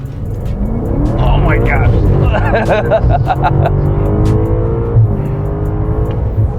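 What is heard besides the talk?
700+ HP BMW F90 M5 accelerating on drive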